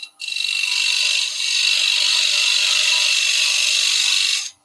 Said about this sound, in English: Then using my parting tool,